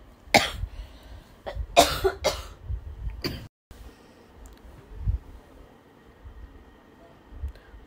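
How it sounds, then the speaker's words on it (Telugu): Several sharp coughs in quick bursts close to the microphone, followed by quieter room noise with faint low rumbles. "కొంచెం అయితే దగ్గు వస్తుంది"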